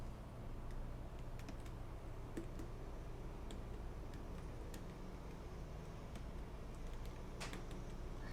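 Quiet, steady clicking of keys on a computer keyboard during typing practice in a typing tutor, sparse taps over a low background hum with no voices.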